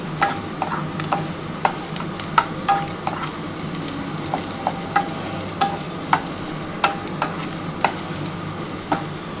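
Onions fry in a pan while a spatula stirs them, with a continuous sizzle broken by sharp scraping clicks at a fairly regular rhythm, close and clear with no talking.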